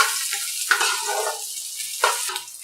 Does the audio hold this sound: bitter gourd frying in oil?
yes